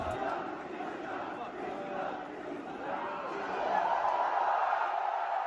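A packed concert hall audience at Offkai Expo makes a dense, steady crowd roar with chatter and cheering that swells louder near the end, heard from among the crowd.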